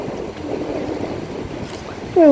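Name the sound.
small sea waves at Digha beach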